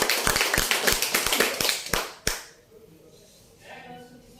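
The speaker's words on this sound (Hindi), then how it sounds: "इसीलिए डीएक्सन कंपनी और डीएक्सन फाउंडर के लिए एक जोरदार ताली तो" Audience at a Hindi business seminar clapping in a burst of about two seconds of sharp, close claps that stop abruptly, followed by a quiet room with faint murmur.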